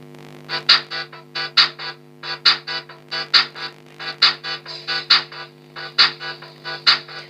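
Music plays through a small speaker with a 4.7 microfarad capacitor, bright crisp mids and highs in a steady rhythmic beat, while the bass sounds thin and cut back.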